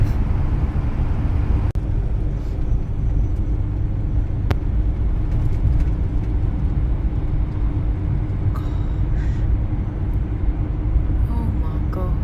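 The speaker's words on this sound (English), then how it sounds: "I've never seen a tunnel with so many cars." Traffic roaring through a 550-metre road tunnel in Spain, a steady, loud, enclosed rumble of many cars with a few brief higher clanks and swishes toward the end, heard from inside a vehicle.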